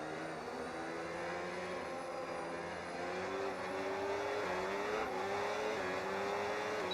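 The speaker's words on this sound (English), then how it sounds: "Safety car heading into the pit lane here." Race car engines drone steadily through an F1 video game race as the safety car peels into the pit lane, with rising revs and occasional tire squeal, the field close and loud without pause.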